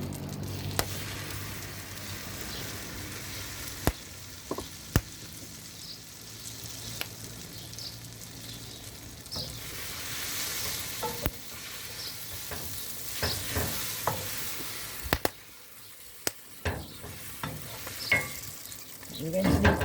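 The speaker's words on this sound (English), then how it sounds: "Into the pan goes our bread." Bread fries in melted butter in a pan, giving a continuous moderate sizzle with scattered clicks and knocks from handling, and a brief dip in the sizzle partway through before it picks back up.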